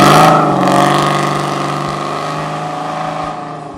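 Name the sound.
Flowmaster Super 10 mufflers on 1972 Dodge Challenger revving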